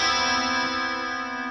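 A sustained guitar chord shimmers with a wavering chorus effect, rich in harmonics and ringing out alone before slowly fading.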